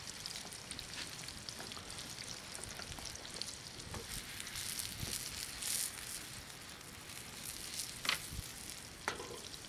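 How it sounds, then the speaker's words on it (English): Onions fry in a pan outdoors, a faint, continuous crackling sizzle with occasional sharper pops. "Mmm, fried onions."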